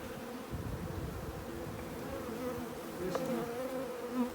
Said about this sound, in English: A lot of bees we've got. There's all bees all clumping up here as well.